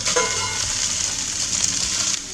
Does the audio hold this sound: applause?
no